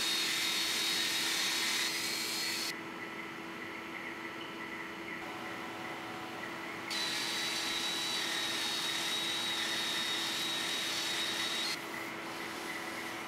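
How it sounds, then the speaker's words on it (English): A belt sander fitted with a 60 grit belt grinds across wood for a rustic loft bed frame, giving a loud, steady abrasive roar with a constant whine that drops in level twice, as if pressure eases, then returns. "We use a 60 grit belt on the belt sander."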